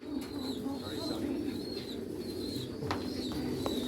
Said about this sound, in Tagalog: Ayan, so pakita ko lang po yung parent ng pinakasikat na ibon ngayon, si Solo History.